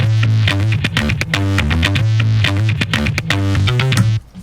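A gritty, distorted bass loop chopped from Apple Logic loops in Quick Sampler pumps along in a steady funky big beat groove, loud and up front, with heavy effects processing and no voices.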